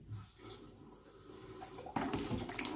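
Aquarium water draining through a siphon into a bucket during a water change, a soft watery trickle that swells into a louder splashing rush partway through, with no talking.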